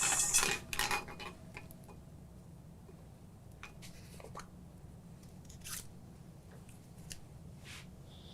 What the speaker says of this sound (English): So we will start with pot 1, and I'll just spin the balls.